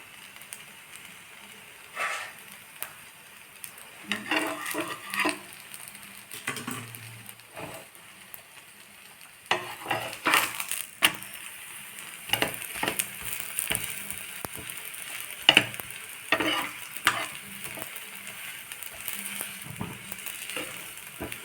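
Chana dal poli, a sweet flatbread stuffed with split chickpea filling, cooking on a hot pan in ghee or oil with a soft steady sizzle and occasional louder crackles and spatula scrapes, no voices.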